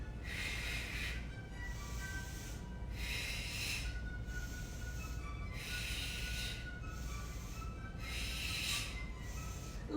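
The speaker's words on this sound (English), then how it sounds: "Sharp exhale out. Inhale in, exhale out" Sharp, forceful breaths during a yoga workout, repeated in a steady rhythm of about four bursts over ten seconds, close and breathy with no talking.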